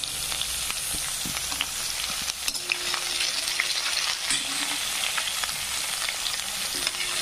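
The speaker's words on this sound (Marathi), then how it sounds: "कांदा टाकल्यानंतर मस्तपैकी असा कांदा फ्राय करून घ्यायचा आहे" Chopped onion frying in hot oil in a pan with mustard seeds for dry moong dal, a loud, steady, close sizzle running throughout with a few scraping stirs and small clinks, no talking.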